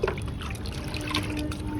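Water trickling and pouring into a container to dissolve 15-15-15 fertilizer for periwinkle plants, a steady close liquid dribble lasting under two seconds with no talk.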